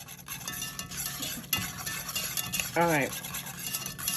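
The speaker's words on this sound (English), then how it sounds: "stir it up" Spoon stirring smoked paprika through a creamy seafood mac and cheese, with soft scraping and clinks against the dish running under a voice.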